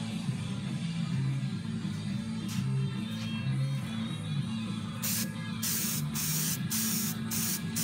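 Primer sprayed onto a trick ski being repaired, a steady hissing spray with a low hum underneath, then several distinct bursts of airy spray near the end, close and fairly loud.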